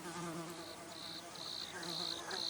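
Insects buzzing beside a stream, a repeated high-pitched pulsing drone in regular bursts over a low background hum, faint and close, with no voices.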